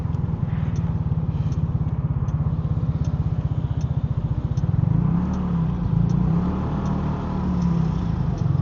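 A KYMCO KRV motorcycle rides through city traffic in a motor lane beside a truck, its engine a steady close drone that rises in pitch midway as it accelerates, with no talking.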